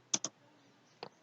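Three light computer keyboard keystrokes, two quick taps close together and a third after a short pause, crisp and close in an otherwise quiet room.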